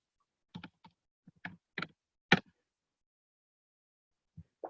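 Keys on a computer keyboard tapped in a short irregular burst as a search term is entered, a handful of clicks close by, then a pause before two more taps.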